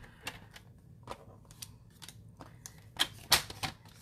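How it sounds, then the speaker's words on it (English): Paper trimmer slicing a sheet of paper to size for a scrapbook layout, a few quiet clicks and scrapes with a louder sharp cutting burst near the end, close and faint, no talk. "I'm going to use my trimmer to chop this down to size."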